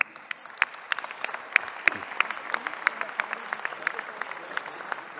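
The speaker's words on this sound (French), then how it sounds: "On peut les applaudir." Scattered applause from a modest crowd at a town New Year's greetings evening in Corbeil-Essonnes, individual sharp claps in a loose uneven rhythm, fairly sparse.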